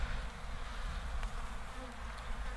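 A spring inspection of an opened beehive, with honeybees buzzing in a dense, steady drone close by that continues without a break.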